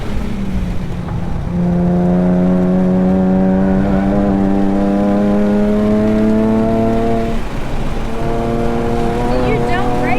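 A Nissan 370Z Nismo laps Thunderhill Raceway, its engine droning loud and close with a steadily climbing pitch under acceleration, then dipping as the driver brakes hard in a straight line into a corner before the note builds again.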